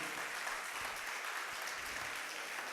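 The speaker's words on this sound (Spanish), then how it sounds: "Un fuerte aplauso para el Señor" Congregation applause after a sermon at a church service, steady and moderately distant, filling the room without pause.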